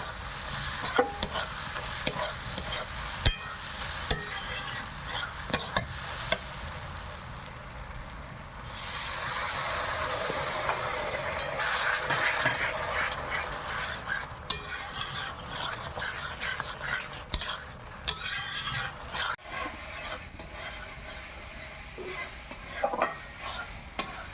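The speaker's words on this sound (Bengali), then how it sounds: "মাছগুলো ভালো করে একটু ভেজে নেই তারপর জলটা দেবো" Fish pieces fry in hot oil with Kashmiri red chilli in a pan, a steady sizzle broken by repeated scraping stirs of a spatula, loud and close, with no talking.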